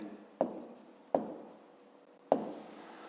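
Three separate strokes of a pen on paper as numbers are written by hand, each a brief scratch that fades out, spaced about a second apart in a quiet room.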